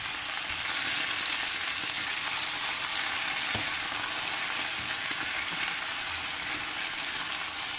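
Sweet paprika being stirred into potatoes and minced meat frying in a pan, a steady loud sizzle with scraping stir sounds throughout.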